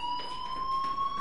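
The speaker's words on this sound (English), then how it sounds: "Hey, do you hear that fire alarm? That means you should be outside." A school fire alarm in the video game Life is Strange rings continuously, a steady, piercing electronic tone holding at constant loudness with no pauses.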